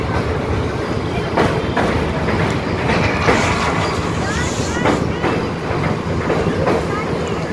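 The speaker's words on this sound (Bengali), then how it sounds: "কৃষ্ণ ব্রিজের উপর দিয়ে ট্রেনটি যাচ্ছে দেখো" Haldia 22330 superfast express train crossing the Krishna bridge over a river running full, heard as a steady, loud rumbling clatter with wheel clicks, blustery wind buffeting the microphone throughout.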